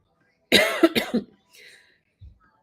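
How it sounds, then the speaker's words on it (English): A close, harsh cough in a quick burst of two or three hacks, followed by a faint throat sound and quiet. "I still have this dang cough."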